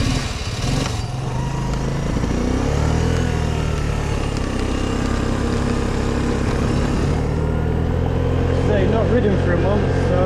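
A Vespa ET4 scooter being ridden out for a short spin, its small engine droning steadily and close over rushing wind, the pitch rising and settling as it pulls away.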